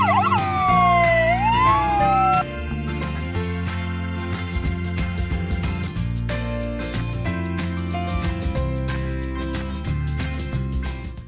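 A toy ambulance siren wails in rising and falling electronic tones over a busy, steady toy-train play tune, loud and close, with no talking.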